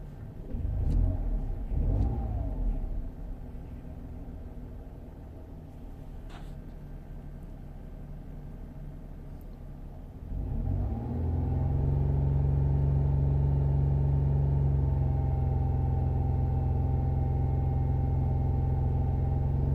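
Jaguar X-Type 3.0 V6 from 2007 with a misfire, its engine running steadily at first, then settling into a louder, deep, constant idle drone in the second half, with no talk.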